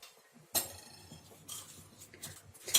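Garlic cloves are pounded in a metal mortar, giving a few sharp clinking taps with quieter scraping between them, close and fairly soft.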